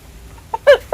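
A chicken gives a couple of short, close, loud clucks after a quiet moment.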